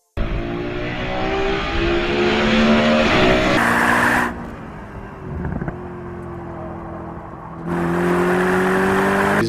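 A Mercedes-Benz SLS AMG Black Series with its naturally aspirated 6.2-litre AMG V8 howls loudly as it accelerates through the gears, rising in pitch with short breaks at each shift, then drops to a quieter drone before surging again.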